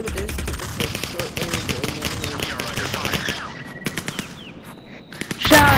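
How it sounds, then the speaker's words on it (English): Rapid bursts of gunfire in a shooter video game, dense and loud for several seconds, thinning to scattered shots before a final loud blast. "Shotguns in this game, though, are the bane of my life."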